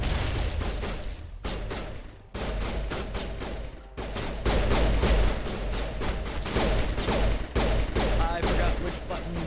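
Sustained gunfire crackles through a firefight in the sci-fi shooter Mass Effect, with dense bursts and volleys continuing almost without pause.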